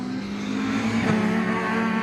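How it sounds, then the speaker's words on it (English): A modified Ford race car at Anglesey circuit, its engine droning steadily at close range with a brief swell as it passes, no voices over it. "So that car just turning its way now out of the Rocket Complex and up towards the"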